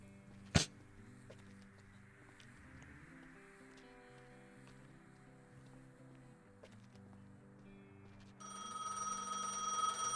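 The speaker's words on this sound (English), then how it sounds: "Pick up the phone at the booth in front of the station." In Gas Station Simulator, the telephone at the booth in front of the station starts ringing near the end, a bright, insistent electronic ring cutting in over quiet game ambience and a low musical drone.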